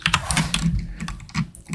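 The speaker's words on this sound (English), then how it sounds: "Yeah, I've got a pretty loud keyboard." Rapid, close clacking of a loud mechanical computer keyboard, steady keystrokes with no other sound.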